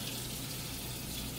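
Tap water running steadily onto a wrapped potato, a soft continuous splashing hiss close by, alone and fairly quiet.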